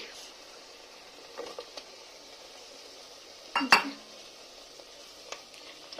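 A spoon stirs chicken curry in a cooking pot over low heat, with a faint low simmer and scattered scrapes and clinks against the metal, one sharper clatter near the middle.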